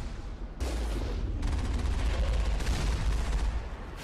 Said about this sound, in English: Damn, these turrets.